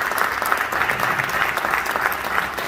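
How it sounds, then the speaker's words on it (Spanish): Audience applause at an anniversary celebration of a gender law in Huincul, honoring the LGBTQI community: steady, full crowd clapping sustained throughout, close and even. "Quiero que le demos un fuerte aplauso a Gabriela Paola Duarte para que ingrese"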